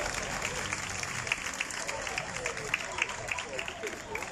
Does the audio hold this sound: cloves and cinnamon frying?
no